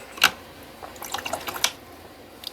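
A watercolor brush dips into a container of clean water, giving a faint sharp splash, then a cluster of small light drips and swishes, and a few more soft taps.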